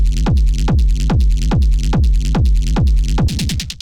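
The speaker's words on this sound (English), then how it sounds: "we have a rumble kick, but we have something a little bit extra going on" Distorted rumble kick drum in a fast rave techno pattern, loud booming thuds on a steady four-on-the-floor pulse with a gritty low tail, speeding into a quick roll of hits at the very end.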